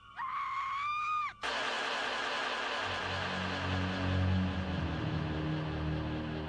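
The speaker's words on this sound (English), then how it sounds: "They ignored the screams that echoed through the woods that night." A horror attraction scream effect: a shrill wavering cry for just over a second, then a sudden loud wash of echoing screams and noise in the woods that keeps going under low rumbling sounds.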